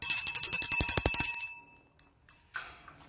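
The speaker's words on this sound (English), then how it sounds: "Get my favorite hug bell." A small bell rings rapidly for over a second with bright metallic tones, fades out, then a few light clinks follow.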